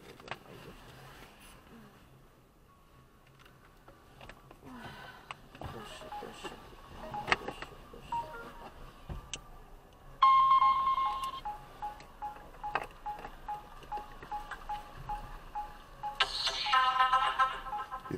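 A phone call in Luhansk begins with a series of electronic dialing beeps and tones, followed later by a louder ringing tone, all heard close by in a quiet room with faint background noises.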